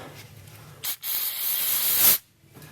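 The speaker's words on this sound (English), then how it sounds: "I'm going to open the throttle body and I'm going to spray some" Two quick bursts of aerosol throttle body cleaner hiss, a short puff followed by a longer steady spray lasting over a second, close up with no talking, into an open car throttle body.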